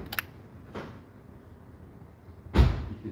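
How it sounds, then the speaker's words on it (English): A car door opened on a vehicle being checked for battery drain: a soft click and latch early on, then a louder thump of the door swinging near the end, close and quiet. "All I'm going to do is open the door."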